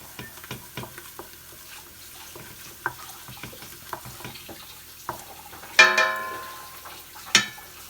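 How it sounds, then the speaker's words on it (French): A wooden spoon stirs mussels in a curry cream sauce in a pan on a lowered gas flame, soft repeated scrapes and clacks with gentle bubbling and a couple of louder knocks. "Toujours la cuillère en bois pour mélanger"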